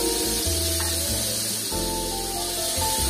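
Hilsa fish pieces fry in hot oil, giving a loud, steady sizzle and spitting hiss with low bubbling underneath throughout the short stretch, and nobody speaks.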